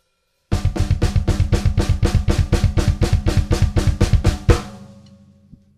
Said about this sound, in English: if I just do it on the snare drum, it sounds like this.